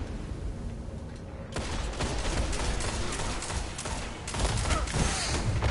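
Gunfire fills a video game battle, with a sharp burst followed by steady rapid shots and booms layered over a loud background of combat noise. The shots are close and heavy throughout.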